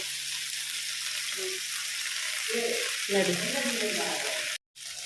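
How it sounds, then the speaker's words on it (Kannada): Fish frying in oil in a pan, a steady close sizzle and hiss running throughout, with faint low clatter partway through and a sudden cut near the end; no one speaks. "ಈಗ ಒಳ್ಳೆ ಫ್ರೈ ಆಯಿತು ಎರಡು ಸೈಡ್ ಕೂಡ"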